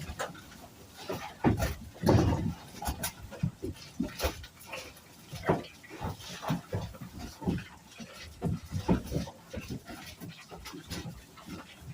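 Boars on a farm being moved, heard as close, irregular pig grunts, snorts and heavy panting in bursts, with rustling and shuffling between them and no talk.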